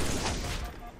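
Rapid battle rifle gunfire in the video game Halo, a dense run of near, loud shots over a constant game din, with faint speech underneath.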